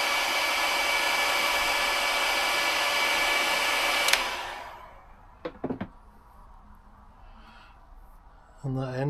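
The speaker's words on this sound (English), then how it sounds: "I've just put a lug on it, and I'm just putting a bit of heat shrink on it now." A heat gun blows with a steady, loud whooshing roar for about four seconds, shrinking heat shrink onto a cable lug for a 12V camper van electrical system, then stops, leaving a few knocks and handling noises.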